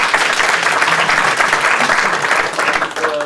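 Loud, dense applause from an audience in a conference hall, continuous close clapping with a faint crowd murmur running through the full few seconds.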